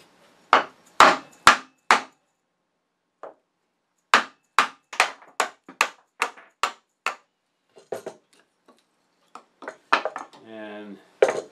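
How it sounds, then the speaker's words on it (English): Mallet blows drive a wide chisel into a woodturning blank to split it in half for a baby rattle: a series of sharp, loud knocks in uneven bursts with short pauses between, ending in a brief buzzy rattle. "we're going to split it in half with a wide chisel"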